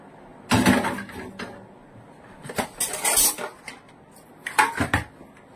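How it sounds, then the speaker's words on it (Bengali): Plates are put away in a kitchen, three separate bursts of clattering crockery and knocking dishes, close and fairly loud, with quiet pauses between them. "চলো প্লেটগুলো রাখি।"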